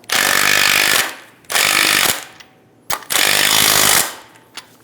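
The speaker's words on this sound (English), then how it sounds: "go ahead and snug down the nut" A power tool runs the top strut nut down on a 2010-2014 Subaru Outback front strut mount. It gives three loud, rattling bursts of roughly a second each, separated by short pauses, close up with no voices.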